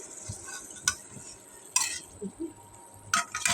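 Marinated biryani meat with yogurt is stirred in a metal pot, giving intermittent sharp clinks and scrapes of a ladle against the pot over a faint background sizzle.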